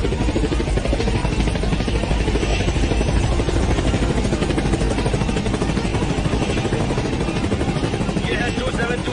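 Loud, steady rotor and engine roar of a military aircraft lifting off, dense broadband noise filling the whole stretch without pause, with speech faintly mixed in beneath the din.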